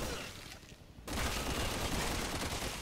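Sustained, dense gunfire in the Resident Evil 6 co-op video game, loud and continuous after a brief dip, forming a steady roar of rapid shots.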